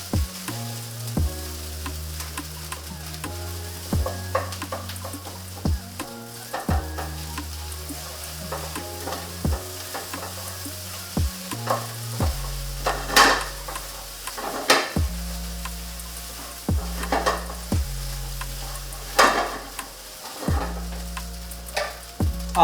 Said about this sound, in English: I want to cook some of that moisture out of the rice